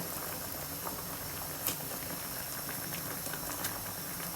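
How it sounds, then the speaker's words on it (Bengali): Mung dal at a rolling boil in a pot, a quiet continuous bubbling hiss with faint pops and a couple of soft clinks, close and steady, no voices. "মুগ ডাল এখানে বলক ভালোভাবে এসে পড়েছে"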